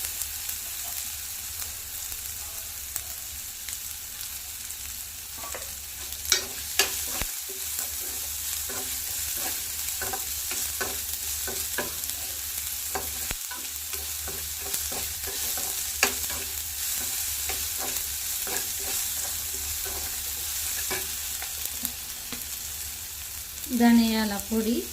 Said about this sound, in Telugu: క్యారెట్ కూడా బాగా ఫ్రై చేసి కొంచెం సాల్ట్ యాడ్ చేసుకున్నాం.